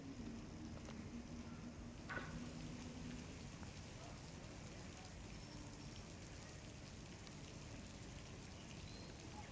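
Steady rain falls in Limbdi and Dhrangadhra, Surendranagar, during a pre-monsoon shower that floods the main roads: a continuous, even wash of rain noise with no voices.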